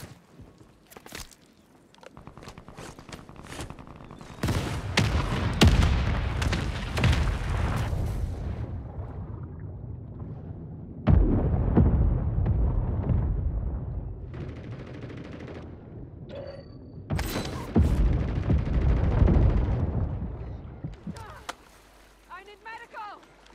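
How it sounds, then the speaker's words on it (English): Mortar strike explosions from a video game, with heavy booms and gunfire-like bursts arriving in several loud clusters over roughly twenty seconds, with quieter gaps between them. "Friendly mortar strike inbound."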